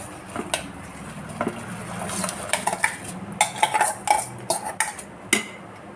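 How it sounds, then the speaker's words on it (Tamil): Soaked rice pours and patters into a metal pot of boiling water with scattered clinks and scrapes, fairly close, no talking. "இந்த அரிசி போட்டுருவோம்"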